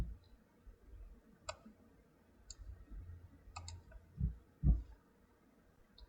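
A computer mouse clicks a few times, sharp isolated ticks spaced apart over a faint background hum, with a couple of low thumps near the end.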